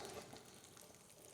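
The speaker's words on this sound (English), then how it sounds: "add some butter to the pan, get that melted, then you're gonna add in your apples" Apples frying in melted butter in a pan: a steady, soft sizzle and crackle, heard alone.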